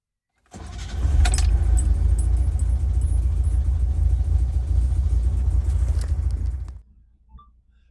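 A 1971 Datsun 1600SSS engine, already warm, cranks and catches, then runs at a loud, steady idle with a low rumble for several seconds before shutting off.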